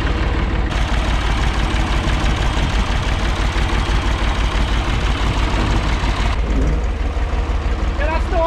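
An Ursus tractor fitted with a Perkins engine runs in reverse, a loud, steady low diesel chug pulsing evenly throughout, close to the listener, with a brief change in texture near the end.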